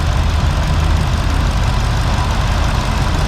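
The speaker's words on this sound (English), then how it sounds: "if you listen to the engine, it's quiet. So you can hear the injectors running" A Ford Mustang engine idles at a car meet inside a large car museum, a steady low rumble with a fine even ticking of the fuel injectors running on top, close and continuous with no talk.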